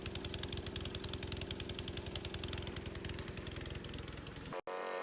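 A petrol lawn mower engine idles steadily with a slight chugging pulse, running on old petrol with fresh oil not yet through the engine, loud and close, then cuts off abruptly near the end.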